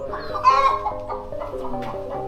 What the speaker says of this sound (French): On est au milieu des poules.